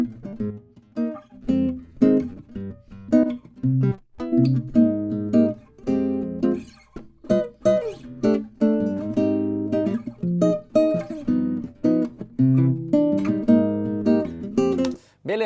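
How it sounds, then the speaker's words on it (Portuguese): Steel-string acoustic guitar recording played back in a home studio, with plucked chords and single notes ringing in a steady, strummed rhythm, close and full-bodied, with no talking over it. "vamos dar mais uma ouvida aqui no som do violão"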